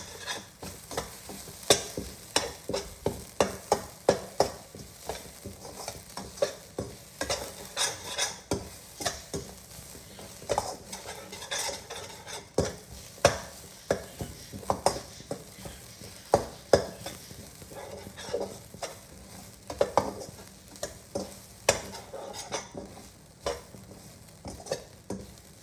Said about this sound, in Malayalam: ആദ്യം ഇത് വറുത്ത് പോരാം